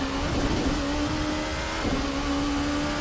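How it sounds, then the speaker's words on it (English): Race car engine in the Assetto Corsa racing game, a P1 prototype at the 4 Hours of Daytona, holds a steady, loud drone at near-constant revs, with a brief dip and recovery around a gear change. "Yeah, the car sounds amazing."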